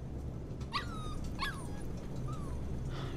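Mushroom, the puppy in Life is Strange 2, gives three or four thin, rising whimpers and yips, close and soft against a faint steady background hum, with no talk.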